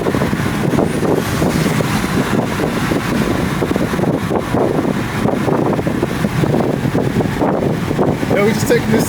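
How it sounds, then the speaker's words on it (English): A BMW 335i with the N54 engine, just back from an intake-valve carbon cleaning, drives along with a steady roar of road and wind noise that holds from start to finish. "Yeah, we just taking this thing for a spin, the 335."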